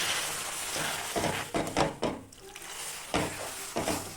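Sattu and spice filling being stirred in a pan with a little water added, with repeated scraping and clinking of a spoon against the pan and a faint sizzle, close and fairly quiet.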